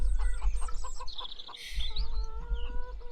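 Chickens cluck and squawk nearby in a farmyard, a run of short rhythmic clucks followed by a higher drawn-out call, over a low rumbling background.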